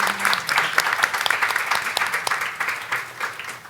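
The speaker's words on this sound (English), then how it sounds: "One more round of applause for all of you guys." Panel audience at a cultural changemakers event claps in a lively, uneven round, individual claps popping through a sustained crowd applause that slowly eases.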